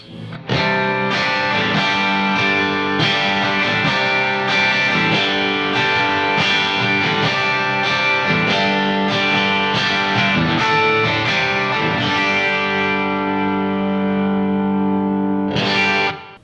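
A Les Paul Junior-style electric guitar plays chords through a clean, high-wattage amp model, loud and sustained for the whole stretch, with ringing harmonics and a fresh strum near the end.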